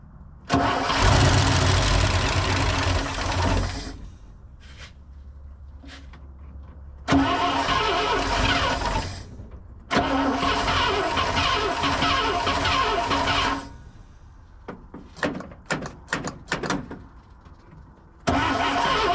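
The 1974 International 200 engine cranks in long bursts, nearly catching, then cranks again. Short stuttering pops and firing bursts follow, ending in another crank, all loud and close, with no talk.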